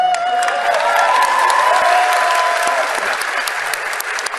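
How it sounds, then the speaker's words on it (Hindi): Studio audience at a televised debate applauding, a dense steady wash of clapping that stays loud for several seconds before easing slightly at the end. "इस पर भी पाकिस्तानी ताली बजा रहे हैं।"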